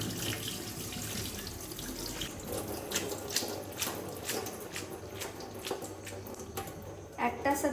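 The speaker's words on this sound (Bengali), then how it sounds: "এবার আমি ভালো করে ঠান্ডা জলে ধুয়ে নেব" Tap water runs steadily over boiled chowmein noodles being rinsed in cold water in a sink, with a continuous splashing hiss and small clatters throughout.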